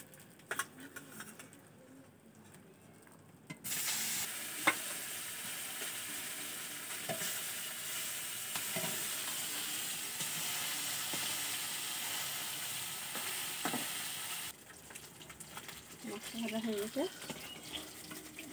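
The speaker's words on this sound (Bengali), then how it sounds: "এবার সিলভার মাছটা ভাজা হবে।" Silver carp fish pieces fry in a pan, giving a loud, even hiss of oil that swells in partway through, holds steady for about ten seconds, then drops back, with faint voices toward the end.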